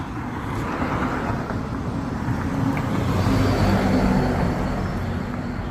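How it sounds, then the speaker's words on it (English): School buses and other traffic drive past on a nearby road, making a steady, broad rumble that swells slightly and then eases, with no talking. "School buses are out."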